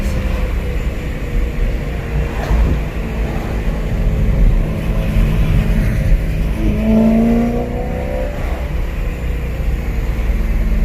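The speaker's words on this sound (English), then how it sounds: "I love this sound because it's just like that subtle hint of supercharger noise" A supercharged BMW E92 M3 engine drones and revs steadily with a faint supercharger whine rising over it, loud and continuous, no voices.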